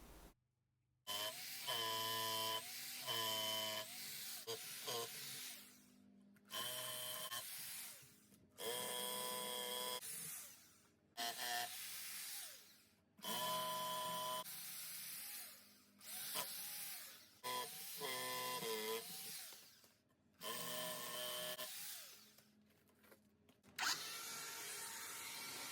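Repeated bursts of a power drill with a 5 or 6 inch bit grinding into a concrete slab, each lasting a second or two, separated by short pauses, loud and close.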